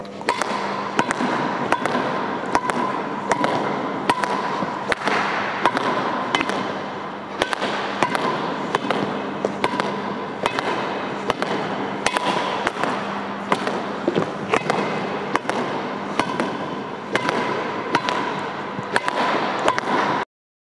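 Badminton shuttlecock struck repeatedly against a wall with a backhand grip during wall practice, producing a fast, steady series of sharp cracks and thwacks roughly every half second, loud and close throughout with no talking.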